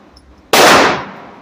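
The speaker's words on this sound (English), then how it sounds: "That's it, 3 shots." A single sharp, loud report from a 30-06 rifle at a gun club, bursting suddenly and decaying over a fraction of a second with no talk.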